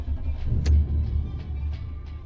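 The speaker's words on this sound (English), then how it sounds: "I think it's time that we go for a drive" A Lexus LS430 drives along with a low engine rumble and road noise inside the cabin, occasional soft thumps and ticks over the steady hum.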